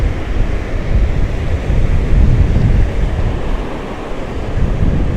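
Sea waves wash onto a beach in Spain as a loud, steady roar of surf mixed with wind buffeting the microphone, with no talk.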